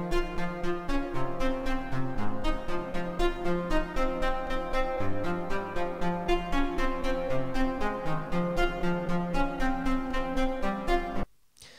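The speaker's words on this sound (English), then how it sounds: "It's a synth loop and it sounds a bit like this." A synth loop sample plays in Ableton Live as steady, pulsing chords and a bassline with evenly repeating notes, loud and continuous, with no voices, cutting off abruptly at the end.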